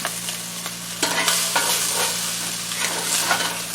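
Chinese greens and chicken stir-fried in a hot pan, with a steady sizzle and scraping stirring strokes continuing close by throughout, no voices.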